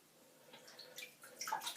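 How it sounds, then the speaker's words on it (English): Shaving brush working soap into a lather in a bowl, a soft wet swishing and squelching that builds and grows brighter over a couple of seconds, close and alone. "try and build a lather with this soap"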